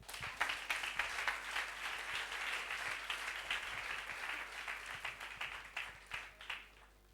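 Congregation at a French-speaking church service applauding together, a steady wash of many hands clapping at moderate distance, swelling and fading over several seconds with no talk on top.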